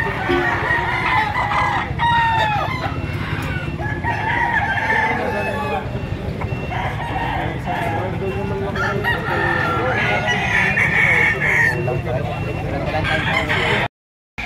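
Game roosters and chickens for sale at a poultry market crow repeatedly, several loud calls overlapping with clucking. A voice talks underneath before the sound cuts off abruptly.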